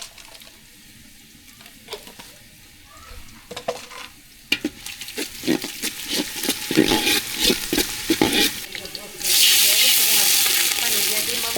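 Green chilli, onion and whole spices (garam masala, cumin, cinnamon, cardamom) frying in oil in a village kitchen for vegetable khichuri; close, uneven stirring scrapes and crackles build toward a loud, steady sizzle that takes over near the end.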